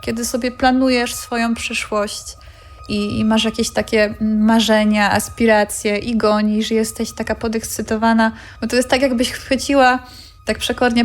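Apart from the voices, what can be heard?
No distinct noise like a dog, phone or traffic.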